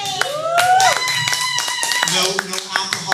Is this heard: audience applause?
yes